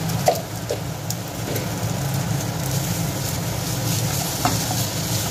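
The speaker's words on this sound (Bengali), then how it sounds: "এবার এই সমস্তটাকে আবার একটু ভালোভাবে তেল ছাড়া পর্যন্ত এইভাবে কষে নেব" Spice paste with tomatoes sizzles steadily in hot oil for a Bengali koi fish curry, a close, continuous crackling hiss with a few soft scraping stirs.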